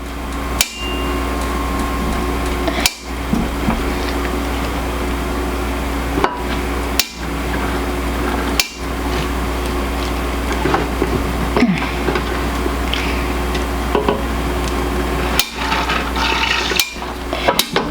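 A sausage stuffing machine presses glass noodle sausage filling into casing, with a steady low motor hum under irregular sharp knocks and clicks repeating every couple of seconds, close and fairly loud.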